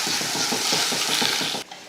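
Mustard seeds, urad dal and curry leaves crackle and sizzle in hot oil, a dense steady fry with rhythmic stirring pulses that cuts off abruptly near the end.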